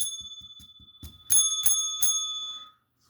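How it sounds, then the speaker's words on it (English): A bicycle-style bell rings three times in quick succession, bright and close, each ring lingering before fading out, preceded by a short run of soft ticking taps. "Frickin' bell"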